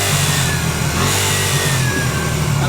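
A dirt bike engine revs loud and close, its buzzy tone rising and falling over a few seconds, with the bike said to have no first gear left.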